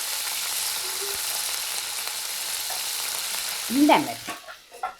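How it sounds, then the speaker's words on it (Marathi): Onion and curry leaves fry in oil, a steady close sizzling hiss, with a brief whistling tone and a few knocks near the end as the sizzle drops away. "आता कांदा आणि टॅमॅटो कितपत भाजायचो त्याचा आवाज कमी होईपर्यंत"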